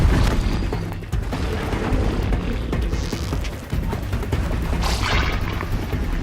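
In the video game Horizon Zero Dawn, an explosion booms during a battle with robot creatures, a dense rumbling blast carrying on over continuous action noise.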